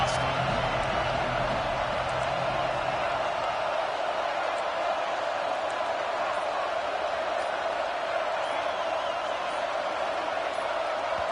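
Hostile college football stadium crowd, a sustained, distant roar of thousands of voices with scattered whoops, steady throughout, with a commentator speaking over it.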